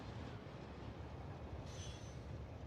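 Trains run in the video game Factorio. A steady, fairly quiet rumble of rolling rail wagons continues throughout, with a faint high squeal of wheels joining near the end.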